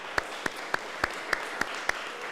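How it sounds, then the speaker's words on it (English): A small group applauding at a community event, a handful of sharp separate claps ringing out at a slow, steady rhythm over a quiet, airy room. "Give them a warm round of applause"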